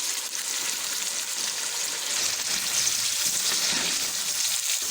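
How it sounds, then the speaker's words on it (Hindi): Garlic ginger paste frying in oil for Sindhi biryani, a continuous loud hiss and sizzle with soft stirring noises underneath, steady throughout and without speech. "इसमें अब लहसुन अदरक का पेस्ट डाल दूँगा, थोड़ा सा उसको भुनाई करनी है"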